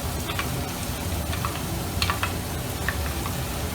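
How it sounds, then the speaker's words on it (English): Black pepper crab sauce with fried garlic and bird's eye chilies sizzles steadily in a pan while being stirred, a constant low frying hiss broken by faint scraping clicks, with no talking. "stir the sauce well"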